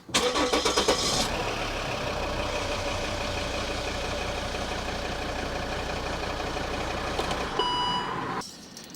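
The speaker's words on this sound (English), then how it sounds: "I'm going to go and grab the key, kick it over very briefly" A 2012 Volvo XC60 D5 diesel cranks with a brief rapid whirr, catches and settles into a steady, loud idle nearby, then shuts off abruptly near the end.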